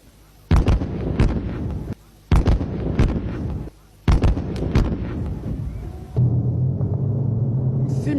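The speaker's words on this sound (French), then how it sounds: "pendant que l'artillerie est en train de tirer" Live artillery and bazooka fire during a Malian armed forces military exercise in January 2011: three loud, close blasts with long rumbling tails, then a steady engine-like drone takes over.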